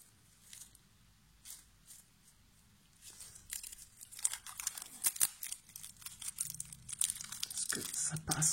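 A Yu-Gi-Oh booster pack is torn open up close: soft foil crinkles at first, then a burst of sharp tearing and crackling wrapper noise that grows denser and louder toward the end.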